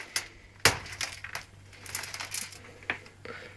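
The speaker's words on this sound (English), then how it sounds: "As you can see, that's full of broken glass." Shards of broken glass shift and clink inside a shattered, exploded New World oven door, with one sharp crunching clatter early on and then scattered lighter tinkles, close by.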